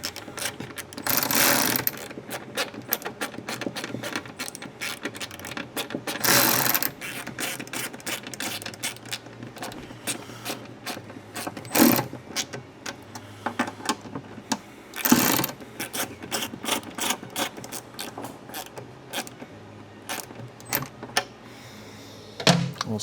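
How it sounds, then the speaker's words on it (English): A ratchet clicks rapidly and repeatedly as it tightens 10-32 Keps nuts on a fender being fitted to a 2026 Harley-Davidson Road Glide 3, with short bursts of ratcheting broken by brief pauses and occasional louder clunks. "we have our 1032 Keps nuts that we can now tighten all together"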